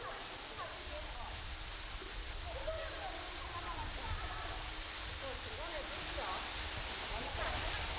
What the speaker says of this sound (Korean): 산길을 따라 내려간 숲속에서 만난 파래소 폭포.